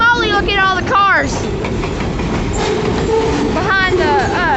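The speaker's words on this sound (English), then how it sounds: "this is an awful long grain train." A long freight grain train passing close by in Idabel, Oklahoma, loud and steady with rumbling cars, screeching wheel squeals and a rolling rail clatter throughout.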